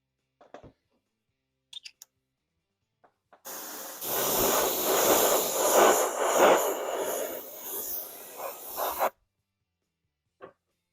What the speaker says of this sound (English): spray our blue next, and then onto the black, and then we're pretty much done